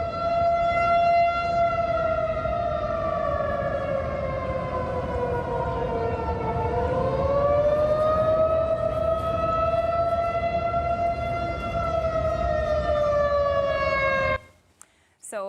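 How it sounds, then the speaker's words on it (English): Civil defense tornado warning siren sounding across the Chicago area, a steady, loud wailing tone that dips and rises again in a slow sweep, droning on for about fourteen seconds before cutting off. "We've been hearing sirens going off downtown Chicago."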